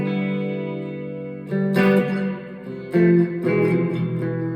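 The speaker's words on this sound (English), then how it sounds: "reverb pedal, and you can have plate, hall or spring" An electric guitar played through a reverb pedal into a Harley Benton Tube15 valve amp, sustained chords with a few strummed changes, each ringing out with a reverberant tail, clear and alone.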